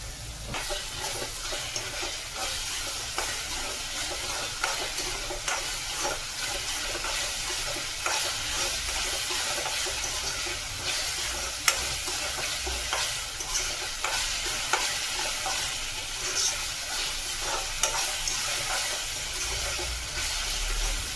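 Ginger garlic paste fries in a pan for a spiced chicken keema, giving a steady, close sizzle under repeated scraping strokes of stirring and no talking.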